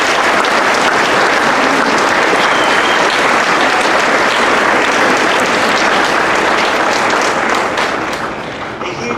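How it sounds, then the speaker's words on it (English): Loud, full applause from a high school choir concert crowd praising solo and group singers, a thick continuous roar of clapping that fades slightly at the end. "I do want to give us a round of applause for all those solo and group performances tonight that performed out here."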